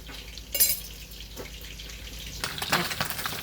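Fish frying in oil gives a steady sizzle and crackle with a few sharper spits and pops, close and moderately loud.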